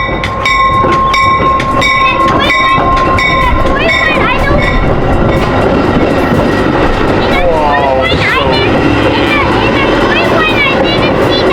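A loud metro train rumbles past close by with steady rolling noise, squealing wheels and brief horn-like tones, while children's voices chatter excitedly over it.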